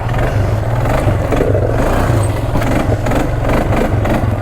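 A 1996 Polaris Sportsman 500 all-wheel-drive ATV crawls off trail over big stones, its engine droning loud and close with steady pulsing and clattering bumps throughout.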